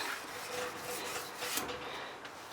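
Steady, close rasping of 600-grit abrasive paper rubbed back and forth over the flat of a steel knife blade, continuous with slight strokes in rhythm.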